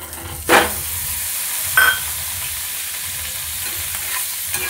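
Paneer fries in butter in a pan, giving a loud, continuous sizzle with two brief bursts of scraping as the pieces are stirred.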